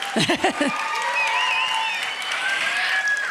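A pageant audience at the Arizona America Pageants Triple Crown Finals applauds itself in a steady wash of clapping, with a few voices calling out at the start and high whistles rising over the crowd.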